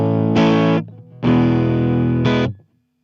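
Electric guitar run through stock Ableton amp and cabinet plugins, a few distorted sustained chords ringing loud and close before cutting off, muffled and bassy in tone with no talking.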